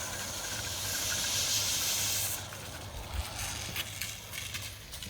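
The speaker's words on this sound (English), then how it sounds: "I'm going to kick on this hand line." Water rushes into an irrigation hand line on a dry cattle pasture, a loud, steady close hiss that drops off after a couple of seconds into a rougher gurgling flow with faint knocks.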